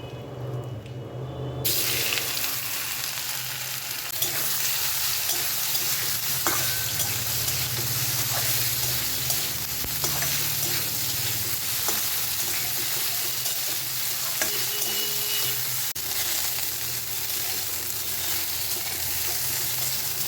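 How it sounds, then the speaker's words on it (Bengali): Soya chunks fry in the same hot oil after the parwal. A loud, constant sizzle comes with stirring scrapes and occasional light clinks, and nobody speaks. "এবারে সয়াবিনগুলো ভেজে নেবো"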